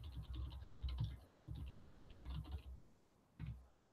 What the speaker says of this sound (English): Keyboard seems to be okay. It's not awesome, but it's not bad.